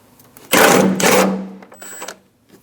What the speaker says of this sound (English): Using a 13mm socket, remove the bolt for the battery clamp.